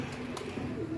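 Pigeons coo in a low, soft, rolling murmur, a continuous throaty burble heard close by with no talk over it.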